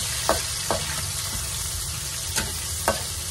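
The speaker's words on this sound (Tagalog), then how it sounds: "Tapos, lagay natin yung bawang. Para mabango." Garlic frying in a pan for pancit gives a continuous close sizzle, punctuated by several sharp clicks and scrapes of a utensil against the pan.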